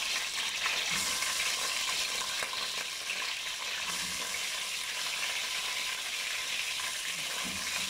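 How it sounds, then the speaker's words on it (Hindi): Chicken pieces fry in hot oil for a potato chicken curry, giving a continuous loud sizzle and crackle with occasional stirring sounds. "अब इसमें मैं चिकन डालूंगी ऑयल में।"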